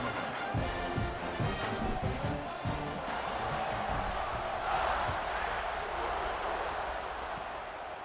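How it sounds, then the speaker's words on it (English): Stadium crowd in the College Football 26 video game roars steadily through the whole stretch, a loud continuous wash of cheering as a kickoff follows the extra point, with some low rhythmic bursts underneath. "this crowd now ready to get behind them"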